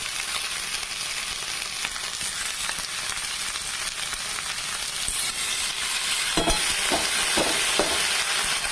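Fenugreek leaves and potatoes fry together in a pan, making a loud, continuous sizzle with a few sharper crackles and stirring knocks toward the end.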